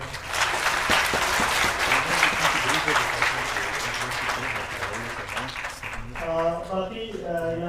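Audience at a Baltistan youth organisation's grammar competition results ceremony claps for Shakeel Fida; a full, sustained round of applause that gradually tapers, with a voice beginning to speak as it dies down.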